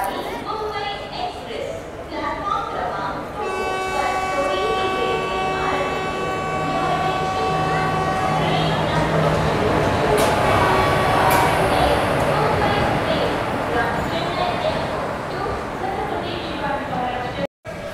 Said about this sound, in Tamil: நம்மளோட ட்ரெயின் பார்த்தீங்கன்னா இப்போது ஆன் டைமில் ரேணிகுண்டா ஜங்ஷன்லேருந்து டிபேச்சர் ஆயிடுச்சுங்க